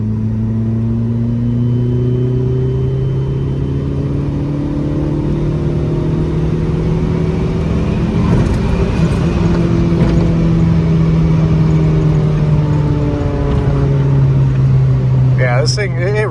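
A Dodge SRT-4 Neon with a 5-speed gearbox pulls in fourth gear at 75% throttle, its engine a loud, steady drone whose pitch climbs smoothly throughout the whole run, with no talking.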